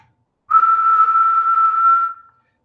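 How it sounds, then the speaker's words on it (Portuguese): A single person whistles one steady, clear, slightly wavering note for nearly two seconds, close and loud, after a moment of silence and with no talk. "vou assobiar aqui para vocês"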